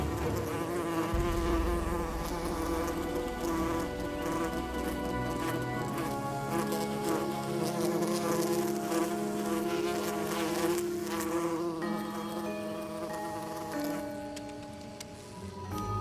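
A dense swarm of wasps drones with a steady, continuous buzz for about sixteen seconds, close and loud, layered over a soft musical score.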